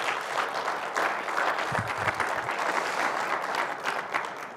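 A conference audience at an African aviation route development and safety event breaks into sustained applause, a full, even wash of clapping from many hands.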